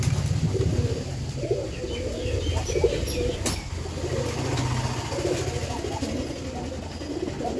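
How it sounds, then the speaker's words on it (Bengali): Pigeons flocking in to eat scattered feed coo in a low, steady murmur, with soft chirps and a single sharp knock partway through. "আর পায়রাগুলো চলে আসছে খাবার খেতে"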